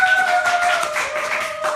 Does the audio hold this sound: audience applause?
yes